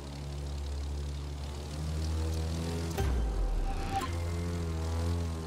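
A small plane's engine drones steadily in The Crew 2, a loud continuous propeller hum with layered harmonics, briefly surging and rattling as the aircraft maneuvers in an air drift event.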